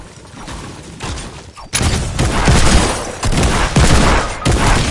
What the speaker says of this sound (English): I missed both of my hand cannon shots, bro.